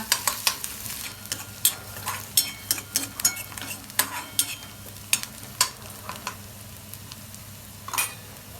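Chopped onion frying in a pan for Maharashtrian egg bhurji, with a steady sizzle under frequent sharp scrapes and clinks of a spatula stirring against the pan, close and fairly loud, no talking.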